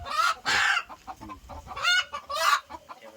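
A hen in a coop gives loud, close clucks and squawks in uneven bursts, several sharp calls separated by brief pauses, with no talk over them.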